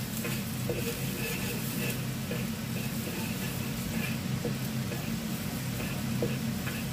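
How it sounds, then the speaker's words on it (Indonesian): Garlic sautéing in a little oil in a pan gives a steady, even sizzle throughout, close and moderately quiet, with occasional light stirring taps. "kasih sedikit minyak, lalu tumis bawang putih"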